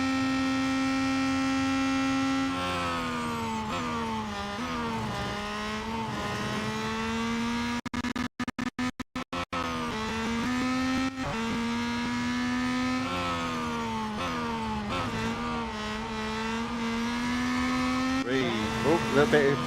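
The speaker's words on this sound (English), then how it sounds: "I do worry about the engine noise though." Peugeot 9X8 race car engine in the Real Racing 3 video game, a steady high-pitched whine that rises and falls with repeated gear shifts, with brief dropouts and a little tire skidding.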